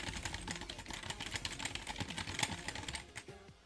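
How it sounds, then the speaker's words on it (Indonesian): Someone types freely on a computer keyboard, producing a steady, dense run of close key clicks that eases off near the end. "tinggal ketik sembarang."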